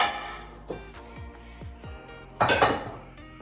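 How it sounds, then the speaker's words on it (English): A pan is washed in a kitchen sink, with several hollow metallic knocks and clanks of the pan against the basin, then a burst of splashing running water near the end. "I am going to, first of all, wash a pan."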